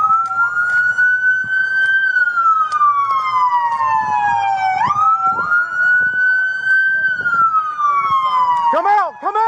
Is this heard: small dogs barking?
no